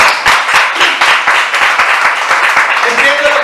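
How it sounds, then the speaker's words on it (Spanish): A church congregation claps in applause, a dense, loud and steady patter of many hands that keeps going, with voices mixed in near the end. "Dale un aplauso al Señor."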